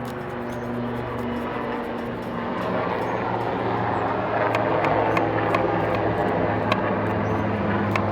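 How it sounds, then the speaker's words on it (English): Steady rotor-like drone of a police helicopter passing overhead, loud and continuous, gradually growing stronger, with no talking. "The police chopper is coming."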